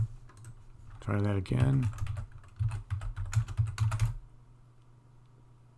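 Keys clatter on a computer keyboard as a password is typed, a quick run of light clicks at close range, with a short spoken phrase over the start.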